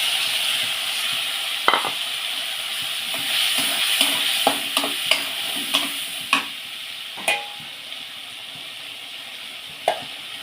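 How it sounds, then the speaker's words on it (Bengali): Spice paste fries with potatoes in a pan, a continuous hiss and sizzle with repeated sharp scraping knocks of a spatula as it is stirred, close and without talk. "এবার আমি এটা সুন্দর করে কষিয়ে নেব আলুর সঙ্গে।"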